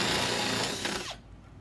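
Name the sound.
screwing through a plumbing pipe fitting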